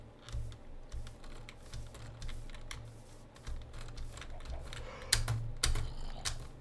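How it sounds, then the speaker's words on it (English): Computer keyboard typing during a Minecraft gaming session, irregular bursts of sharp clicky keystrokes up close with brief pauses, a few louder clacks near the end, and no talking. "Apologies for the sounds of my keyboard."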